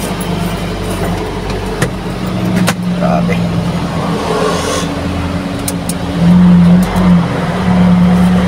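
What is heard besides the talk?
vehicle engine warming up and revving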